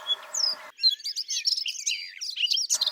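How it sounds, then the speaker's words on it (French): A female blackcap calls in a winter garden among apple-feeding birds, a close, loud run of quick chirps and twittering notes that fills most of the moment alone. "Une fauvette à tête noire, une femelle."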